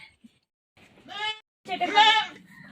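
Goats on a farm bleating up close: a short bleat followed by a longer, louder, wavering one, with near silence around them.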